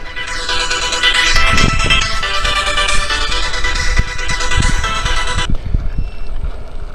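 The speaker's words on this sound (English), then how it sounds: "I have a phone call coming in." A phone ringtone sounds for an incoming call, a steady, bright, repeating melodic tone that plays loudly for about five seconds and then cuts off, leaving quieter background noise.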